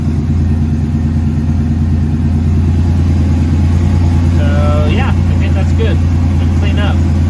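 Porsche Carrera 3.2 flat-six idling steadily after a spark plug and wire change, a loud close rumble with a continuous even pulse and no misfire, while someone speaks briefly over it.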